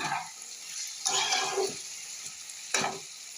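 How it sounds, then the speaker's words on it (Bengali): Potatoes and carrots sizzle and fry steadily in a pan, with a few louder bursts of stirring and scraping, close by and with no talking. "আলু গাজর ভাজা বসিয়ে দিয়েছি"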